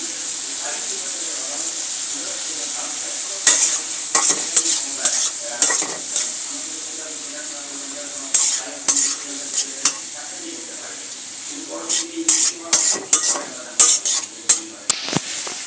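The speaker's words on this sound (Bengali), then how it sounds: "এখন ভেজে রাখা ডিমটা সবজির মধ্যে দিয়ে দিব।" Pre-fried egg being stirred into half-boiled vegetables for pasta, with a steady frying sizzle and repeated sharp scrapes and clinks of a utensil against the pan, coming in quick irregular bursts.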